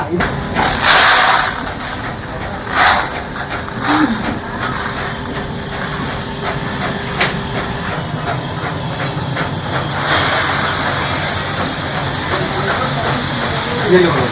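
Safflower seed cleaning machine separating dust, soil and stones, a loud continuous mechanical hiss and rumble with rhythmic rattling, with someone speaking over it.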